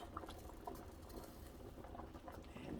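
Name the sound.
water boiling in a pot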